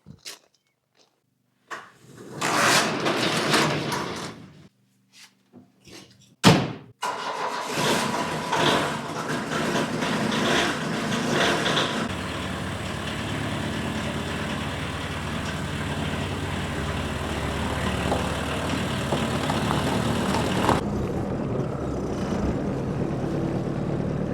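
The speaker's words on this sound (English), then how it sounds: "This is the rabbit pick-em-up truck that works, Aubrey." An old pickup truck engine turns over after a couple of short bursts, then settles into a steady, fairly loud idle that runs on for the rest of the clip, close by, with no one talking.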